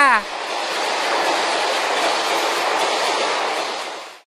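A train rushes past without stopping, giving a loud, steady roar of rolling wheels and carriages that holds for several seconds and then cuts off. A brief horn-like tone sounds at the very start.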